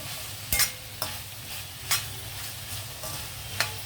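Tomato, green chilli and coriander being stirred into softened vegetables in a pan, a spoon scraping in a few distinct strokes over a steady low sizzle.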